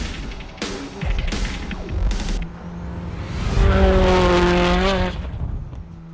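A Pleasure EVO race car tearing up the Mt Washington hill climb, engine rising through rapid gear changes with a brief tire squeal, then a loud high-revving wail as it passes close before fading.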